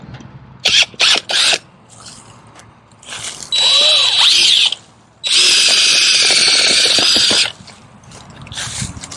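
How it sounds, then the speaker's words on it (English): A power auger bores into wood outdoors, giving two long, loud steady whines of the motor under load, preceded by a few short bursts and followed by lighter mechanical rattling. "Drill into that thing next time."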